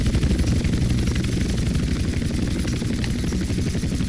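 Helicopter in the video game GTA San Andreas on PS2, a steady loud rotor chop and engine drone with heavy low rumble running continuously and close throughout.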